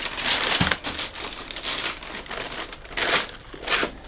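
Wave-patterned tissue paper from a Nike Air Force One Mid sneaker box crinkles and rustles loudly up close, in repeated handling bursts with brief lulls between.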